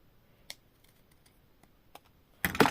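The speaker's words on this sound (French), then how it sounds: "on va prendre le ciseau qui lui va venir découper sans problème" Scissors snip through a paper card for handmade Christmas crafting, sounding as a few faint, scattered clicks and taps, then a brief louder crunch of cutting near the end, with no voices.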